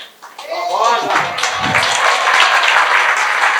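Applause from an audience for a music group at a talk held at a Spiritist gathering, with a steady dense roar of clapping that builds quickly and holds, while voices sound faintly underneath.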